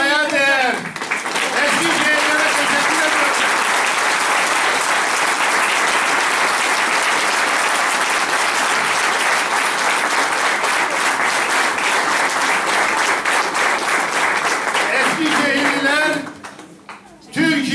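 A large crowd applauds continuously and loudly at a party's election victory celebration in Eskişehir, Turkey, the clapping sustained for most of the stretch before fading at the end.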